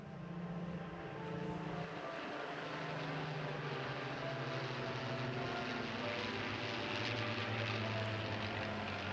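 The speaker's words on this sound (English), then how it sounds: "Led by the strong, meaty and outstanding aircraft, the P-51 Mustang." A P-51 Mustang leads a propeller aircraft formation at an air festival, its engine a loud, steady drone with wavering tones that persists throughout, swelling slightly as the planes pass.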